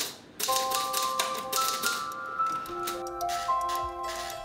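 Old manual typewriter keys striking in a quick irregular run of close, crisp clacks, with a few bright tonal rings near the end, set in a repair-shop setting in Quiapo.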